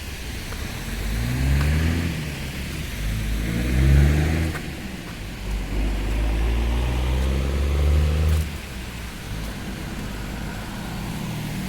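Cars pass along a suburban street one after another, their engines swelling and fading as they go by, fairly close, over a steady background of traffic noise.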